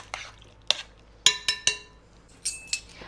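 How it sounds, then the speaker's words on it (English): A utensil stirs apple pie bread mixture in a bowl, giving sharp separate clinks and scrapes against the bowl, about seven distinct knocks spaced irregularly over a quiet background. "we're just going to stir that around"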